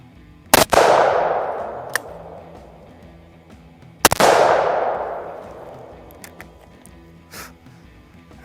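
Two .44 Magnum revolver shots fired outdoors at corn targets, each a sharp, very loud crack with a long booming decay, spaced about three and a half seconds apart, a few faint clicks between them.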